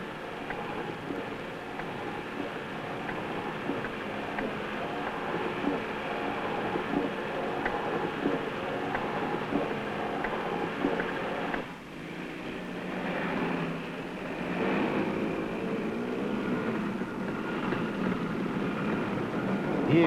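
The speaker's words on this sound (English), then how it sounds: "the only thing to do is to patiently wait for the train to pass" A train rolls past during a 1960 motorcycle endurance trial, a steady rumbling wash of wheels and cars that holds for the whole stretch, briefly dipping midway, with distant engine noise mixed in.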